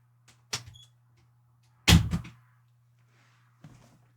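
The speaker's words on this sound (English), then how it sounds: "Close my door since people are home now." A room door swings shut in a quiet home, landing as one loud close thunk with a short rattle, framed by a couple of fainter knocks before and after against a steady low hum.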